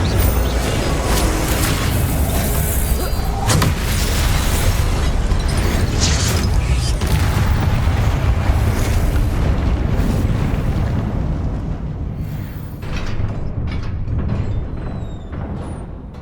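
Loud, sustained spell blasts and booming explosions from a fantasy video game fight, dense rumbling bursts running almost continuously before easing slightly near the end, with no talking.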